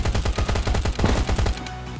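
Loud, rapid automatic gunfire in the survival shooter Last Day Rules: Survival, with a fast rattling string of close shots that breaks off briefly and resumes, followed by a steadier ringing tail.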